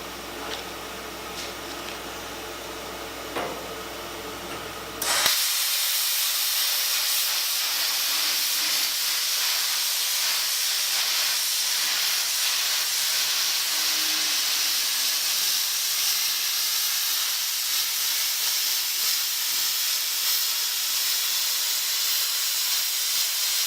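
A plasma torch slices through a steel tank, giving a loud, steady hiss of cutting that starts abruptly and runs unbroken to the end, with no talk over it.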